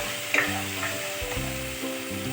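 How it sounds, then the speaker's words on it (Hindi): Steady, continuous sizzling of an onion, ginger, garlic, pistachio and almond paste frying in a hot pan for egg curry, with a few faint scrapes as it is stirred. "मैं अभी अच्छा से फ्राई करूँगी।"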